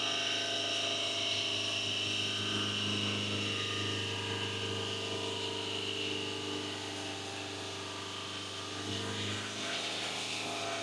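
A Nissan diesel engine with a DPF soot fault, held at a steady elevated idle of about 2,500 RPM, producing a constant droning hum with a faint whine and no speech.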